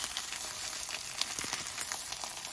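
Vegetable pancake sizzling and frying in a hot pan just after being flipped, a steady close crackle of oil with small popping bursts throughout.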